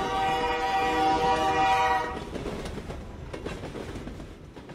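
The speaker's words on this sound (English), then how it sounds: "you can still hear the sound of the midnight train rolling through one last time" A midnight train rolls past at Moonville, Ohio with a sustained horn blast, then steady rumbling and clatter of wheels on track as the horn fades.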